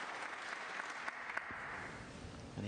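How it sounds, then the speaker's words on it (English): Steady audience applause at a snooker match during the UK Championship, a dense even wash of many hands clapping throughout, moderately loud with no break. "Applause for frame ball."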